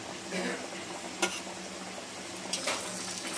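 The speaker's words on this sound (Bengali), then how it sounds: "এবার একটা একটা করে তেলের মধ্যে আমি ছেড়ে দেবো এগুলো" Potato-stuffed puris frying in hot oil, a soft continuous sizzle with sharp clinks of a utensil against the pan and quiet stirring sounds.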